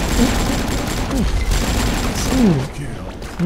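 Rapid bursts of gunfire in the video game AvatarStar crackle continuously while someone talks excitedly over them.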